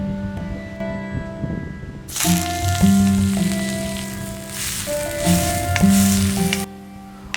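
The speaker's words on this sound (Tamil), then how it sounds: "முதல்ல நம்ம கேபேஜை நல்லா வதக்கிக்கலாம்." Cabbage sautéing in a hot pan, a steady loud sizzle and crackle that swells as the vegetables are stirred, with clinks of a spoon against the pan.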